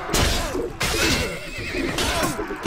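A horse in the medieval combat game Mount & Blade: Warband whinnies loudly in repeated shrill neighs, with thudding hoof and battle noise around it.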